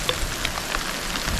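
Rain falling over a chili garden, a brief steady patter of drops on surfaces.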